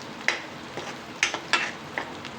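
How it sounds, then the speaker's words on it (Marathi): Stir-frying in hot oil in a home kitchen, with a steady low sizzle broken by several sharp scrapes and clinks of a spatula against the pan at irregular intervals. "आपण या तेलामध्ये टाकणार आहे. एक 2-3 मिनिटं आपण असं याला परतून घेऊया."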